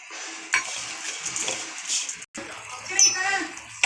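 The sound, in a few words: mixing grated coconut with cashews and raisins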